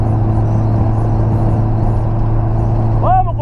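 A square-body VW Gol with a carburetor, floored in fifth gear at about 120 km/h on a Brazilian highway, its engine a loud, steady droning roar heard from inside the car, with a brief voice near the end.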